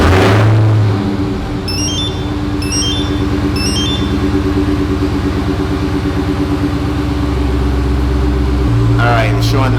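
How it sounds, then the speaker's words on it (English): A Dodge Hellcat fired by remote start settles into a loud, steady idle, its deep engine rumble continuous and close throughout, with a brief burst at the start and a few faint electronic chirps over the top. "All right, car is about to start."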